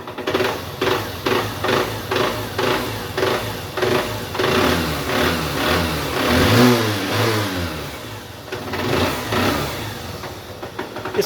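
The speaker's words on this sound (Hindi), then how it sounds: "बाइक ये स्लो में स्टार्ट है और इस प्रकार से आवाज़ कर रही है, बड़ी सी आवाज़ कर रही है" A Honda Shine 125 motorcycle engine runs at low idle with an abnormal knocking piston noise, a loud, steady rhythmic mechanical tapping close by with uneven swells, and no voices.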